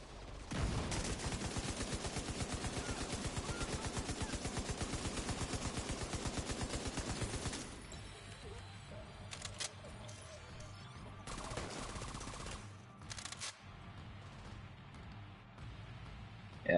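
Sustained rapid automatic gunfire in The Division 2 fills the first seven seconds, then gives way to scattered bursts and quieter game ambience with a few sharp shots.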